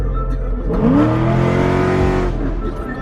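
A Nissan 240SX engine revs hard during a clutch kick, surging into a loud, rising roar that holds for about a second and a half before easing back to a steady engine hum.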